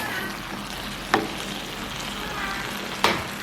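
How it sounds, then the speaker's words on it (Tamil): Cuttlefish devil sauce sizzling and bubbling in a pan on the stove, a steady soft frying crackle with two brief sharp clinks, close and on its own. "இதை ஒரு கொதிக்க குறுகி கணக்காக வரும்."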